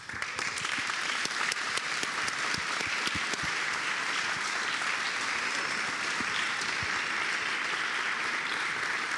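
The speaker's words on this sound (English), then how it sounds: "Just one more round of applause for our panelists here, for Fred Gregar and for Charles Hoskinson." A conference audience at a tech week event applauds panelists, dense, steady clapping from many hands that continues for the whole stretch without pause.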